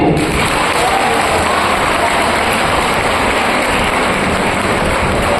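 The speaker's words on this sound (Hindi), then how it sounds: "बजाए तालियां" Steady applause from an audience at a college freshers' day event, dense and continuous throughout, loud and close with a wash of many hands clapping.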